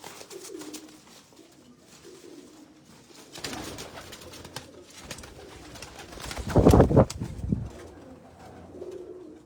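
Pigeons coo in soft, repeated throaty calls at a loft in Islamabad, with a louder burst of cooing and wing flutter near the middle and faint background bustle.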